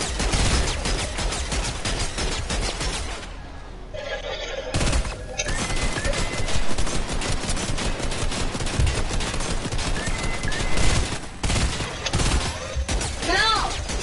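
Rapid bursts of gunfire aimed at a wall, loud and dense fusillades with a short lull partway through, mixed with a little speech and crashing impacts.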